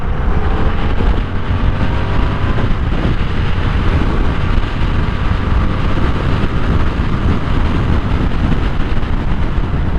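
A 2025 Yamaha R7 sport motorcycle rides at top speed, a loud continuous engine drone buried in heavy roaring wind rush, with no talking.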